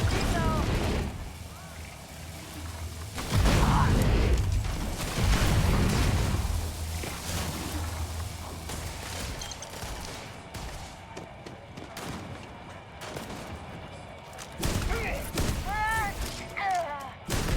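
Gunfire in the video game Starfield, a run of loud thumping bursts that recur through the stretch with a busy game soundscape underneath and occasional chirpy effects.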